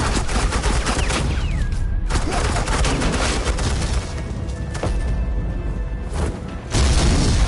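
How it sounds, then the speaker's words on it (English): Suppressing gunfire rattles nonstop in the Batman Telltale game, loud and dense bursts of rapid shots and booms across the whole stretch, with a few brief dips in between. "suppressing fire"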